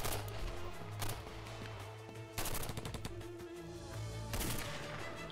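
Bursts of rapid automatic gunfire in a combat scene, loud and close, with three dense volleys separated by brief lulls and a steady low background drone.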